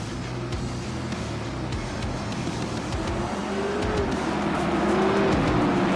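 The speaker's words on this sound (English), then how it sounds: "Pace car heads to pit lane." Pace car at Myrtle Beach Speedway during a Late Model Tour heat, engine droning steadily as it heads into pit lane, the level swelling slightly toward the end with faint tire noise.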